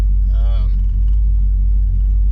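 A 1994 Camaro engine with a mild CC503 cam idles with a loud, steady low rumble, and a voice speaks briefly over it near the start.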